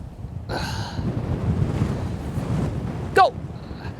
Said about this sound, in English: Straight into a 3-club wind here.